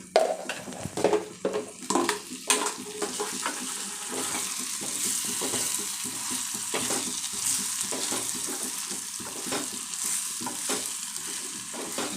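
A spoon stirs pasta with salt in a frying pan, scraping and clinking in quick bursts at first, then settling into a steady close sizzle with light scrapes, no voices.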